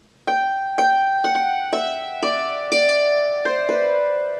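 A hammered dulcimer rings out six struck notes of the Joy to the World pattern in a two-one-one rhythm. Each strike is clear and close, with bright sustaining tones that overlap and fade.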